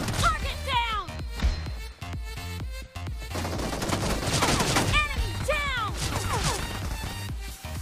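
Dense bursts of gunfire in a shooter video game, including sniper and pistol shots, crack and rattle with crashes and whining effects, mixed with ongoing talk.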